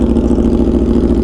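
An Aprilia RSV4 motorcycle running a Gabro Upmap T800 flash tune idles close by, its exhaust giving a steady, even, deep burble with no lumpiness for the whole short stretch.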